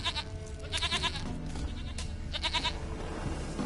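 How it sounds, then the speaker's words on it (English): A goat in the video game Witcher 3 bleats several times in quick wavering cries, close and clear over a low ambient background. "Here, goat."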